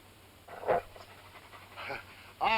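Dogs guarding a room pant in quick, breathy bursts, a few short rasping pulses over about two seconds, close but fairly quiet, with a low background hum.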